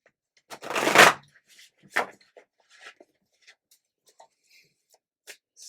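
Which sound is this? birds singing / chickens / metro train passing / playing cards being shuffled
playing cards being shuffled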